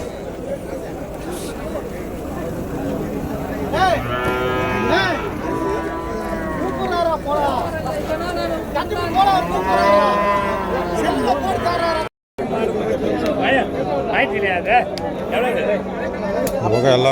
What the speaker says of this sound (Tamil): பெரிய பெரிய மாடுங்க தான் கலப்பின மாடுங்க